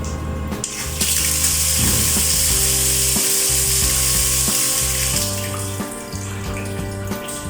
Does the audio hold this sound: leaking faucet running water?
yes